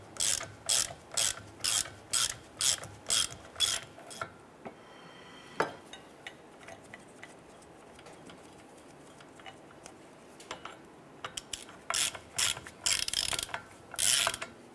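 A ratchet clicks in rapid regular runs while snugging down driveshaft support bearing bolts on a 2005-2010 Chrysler 300, close and crisp, with a quiet pause of faint handling noises between two bursts.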